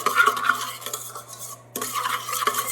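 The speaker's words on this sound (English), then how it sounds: "Stir that up a little bit." Spoon stirring yeast into water in a bowl, with ginger already added, for old-fashioned raisin bread: close scraping and clinking against the bowl that pauses briefly, then resumes.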